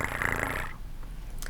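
A voice imitates a cat purring with a low, rough rumbling flutter that runs for a moment close to the microphone, then stops abruptly, leaving near-silence with a faint soft sound at the end.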